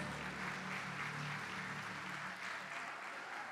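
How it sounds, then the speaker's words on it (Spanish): Audience applause at a business gathering for company partners in Trujillo, a continuous wash of clapping heard at a distance, fairly soft and even throughout. "Un fuerte aplauso para todos ustedes"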